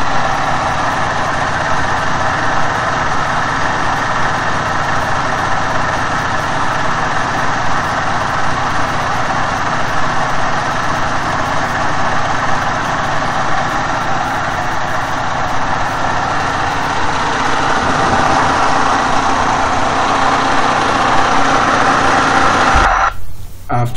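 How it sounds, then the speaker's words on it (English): A 12 kVA electricity generator engine runs steadily at a constant loud drone with a rough mechanical hum, unchanging for about twenty-three seconds before it abruptly cuts off. "You can see this is the 12 kVA generator."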